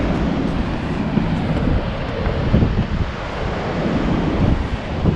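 Steady roar of big, messy surf breaking at Ribeira d'Ilhas beach in Ericeira, Portugal, blended with gusting wind buffeting the microphone, a continuous dense wash with no voices.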